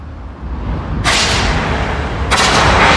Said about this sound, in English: CO2 extinguishers can be stopped and restarted as required.